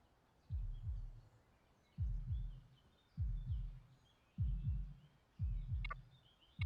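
Video-game heartbeat in IFSCL, a deep double thump repeating about once a second, steady and prominent, with faint high chirping tones above and no talk.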